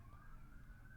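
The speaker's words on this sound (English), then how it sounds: "I'm sure the microphone's catching those sirens" Distant siren wail from an emergency vehicle outside, a steady tone held faintly through the whole second over low background rumble.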